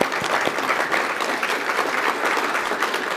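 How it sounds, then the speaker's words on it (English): Sustained applause from an audience at a CEO investor forum, steady dense clapping filling the room throughout with no breaks. "give them applause for all their work on that letter"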